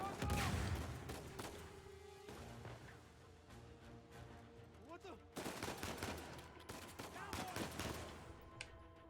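Explosive grenade-launcher blasts and gunfire in the action game Uncharted 4, a dense run of sharp bangs and crackling shots layered with game sounds and music, loud and continuous with a heavier burst in the middle.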